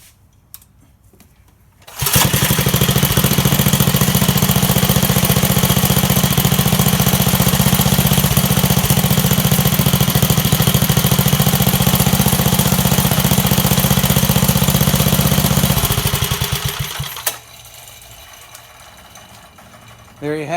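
A carbureted 1969 Bonanza mini bike engine runs at a steady, loud drone for about fifteen seconds after carburetor tuning, then cuts off abruptly into quiet.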